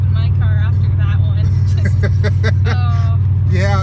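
Loud, steady low drone of road and engine noise inside the cabin of a Subaru Impreza 2.5 RS while driving, with people talking over it throughout.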